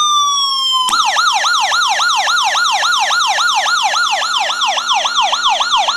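An emergency vehicle siren rises steadily and then switches into rapid yelp mode, a loud, close, fast-repeating up-and-down warble that continues without a break and has no other sounds alongside it.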